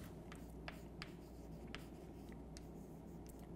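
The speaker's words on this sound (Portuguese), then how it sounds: "Vou mais uma vez escrever aqui." Chalk or marker writing on a board during a maths lecture on inequalities, with faint intermittent scratching strokes over steady room hum and no talk.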